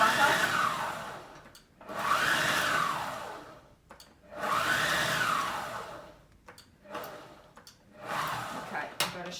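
A food processor pulses flour and butter for quick flaky pastry in several short whirring bursts of about a second or two each, separated by brief pauses, fairly close and loud.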